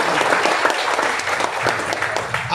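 A seminar audience in Bilaspur, Chhattisgarh breaks into loud, dense applause, a continuous clatter of many hands clapping close by for the whole stretch.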